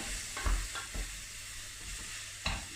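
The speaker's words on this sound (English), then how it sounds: "So you wait for them to go all soft and the onions go translucent." Onions and mushrooms fry in a pan with a soft, steady sizzle, broken by a few light scrapes and knocks as they are stirred, fairly quiet and without voices.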